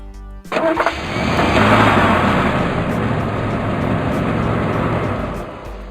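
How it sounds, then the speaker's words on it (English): A truck engine cranks and starts with a few quick sputters, then settles into a loud, steady rumbling run close by before easing off at the end. "Truck."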